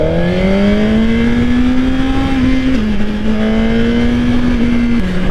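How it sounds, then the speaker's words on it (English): A 2024 Suzuki GSX-R1000R liter-class four-cylinder sport bike revs loud and close, its engine note climbing smoothly, dipping briefly, then rising again under light throttle. "I love the sound of the 4-cylinder."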